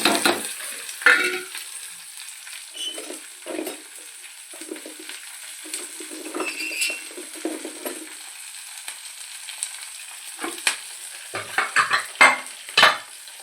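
A seasoning of oil with mustard seeds, chana dal, urad dal, green chillies, curry leaves and onions fries in a pan. A close crackling sizzle runs throughout, broken by irregular stirring scrapes and clinks of a spoon.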